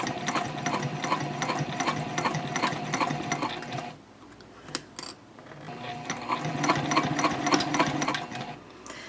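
A sewing machine stitches piping around a curve on a Swoon Betty Bowler bag, running in a fast, steady mechanical rattle, then stopping briefly with a couple of clicks before starting again at full speed.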